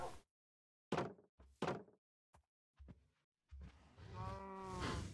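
Cows mooing in the video game Minecraft: a few short lowing calls and thumps, then a long, drawn-out moo near the end, fairly close and clear with no talking.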